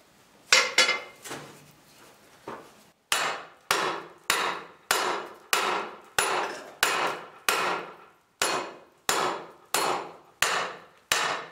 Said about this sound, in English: take a piece of iron out, turn around and hammer on it